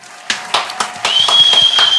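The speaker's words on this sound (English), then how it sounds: "let's clap to that" A few people clap together up close, a short run of loud, separate hand claps that quicken slightly, with a thin steady whine running underneath from the second half onward.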